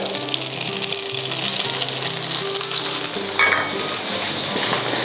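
Pork for pork chop steak is stir-fried fast over high heat with salt, a loud, continuous sizzle with spatula scrapes and tossing throughout.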